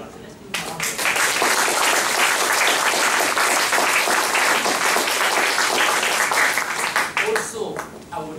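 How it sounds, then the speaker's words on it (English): Sustained round of applause from the audience at a Toastmasters club meeting, dense clapping starting abruptly and holding steady for several seconds before thinning out at the end. "Let's give him a round of applause."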